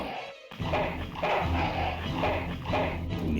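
Dog barks from the video game Full Throttle Remastered, four or five evenly spaced bursts over steady game background noise, moderately loud and close.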